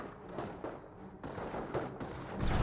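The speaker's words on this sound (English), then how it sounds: "Sniper does take a shot there on the Volk's Grenadiers." Sniper rifle shot in the video game Company of Heroes, a sharp shot among several quiet bursts of distant gunfire in a busy battle, fairly faint overall.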